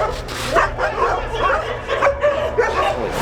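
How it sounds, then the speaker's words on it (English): A pitbull attacks another dog in a small enclosure, producing a close, chaotic mix of sharp yelps, whimpers and barks in irregular bursts, with faint human voices underneath. "A pitbull queen had this dog, just had him pinned and was just shaking, and they're fighting."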